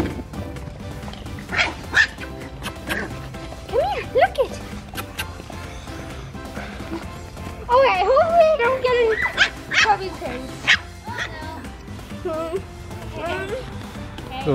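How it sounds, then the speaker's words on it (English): Small puppies yip, bark and whimper in scattered bursts, close by, while a person talks over and between the puppy sounds. "Those little puppies."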